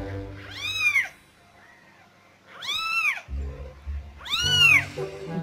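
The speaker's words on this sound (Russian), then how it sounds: "Беленький сидит, пищит." A white kitten squeaks and mews in three loud, high, rising-and-falling cries separated by short pauses, with a little background noise between them.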